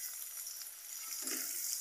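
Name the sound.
potatoes frying in pan with salt and turmeric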